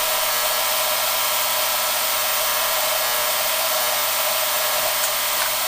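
A 1956 Johnson 5.5 hp outboard motor runs after a carburetor cleaning, giving a loud, steady high-pitched drone that holds unbroken throughout with no voices.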